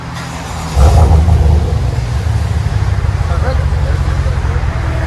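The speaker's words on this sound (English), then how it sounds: "There it is with the FLOWMASTER FX series." Exhaust of a 2019 GMC Sierra 6.2L V8 with dual exhaust and a Flowmaster FlowFX muffler, a deep steady rumble at idle that swells briefly near the start, heard close with a voice talking over it.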